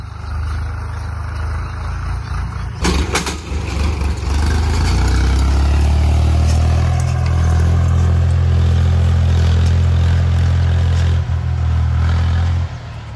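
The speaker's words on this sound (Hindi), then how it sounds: "लग चुका है ट्रैक्टर खेतों में" A tractor works in farm fields, its heavy, low engine rumble close and loud, holding steady after a sharp knock early on, with some mechanical clatter over the drone.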